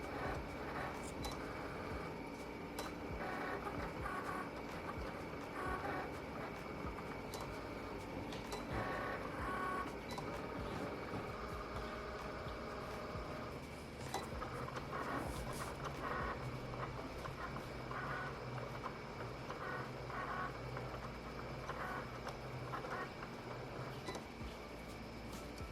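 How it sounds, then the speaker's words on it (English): A Cricut Explore 2 cutting machine slices iron-on vinyl for custom t-shirts, giving a steady mechanical whir with faint intermittent carriage beeps and clicks, fairly quiet and continuous with no talking. "I'm just gonna press the Cricut button, and then it's just gonna start cutting for me"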